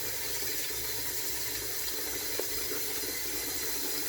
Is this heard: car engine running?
no